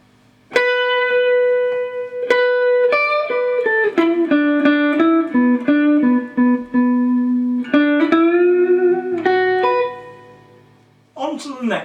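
Electric guitar playing the intro solo of a song: a lightly driven single-note blues line with picked notes, bends and sustained tones, loud and close, ending in a short burst of other sound.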